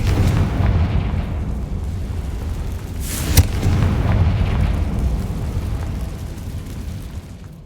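Confringo blasting spell in the Hogwarts Legacy video game, a single loud explosive burst over a dense, rumbling game soundscape, surrounded by continuous low roar.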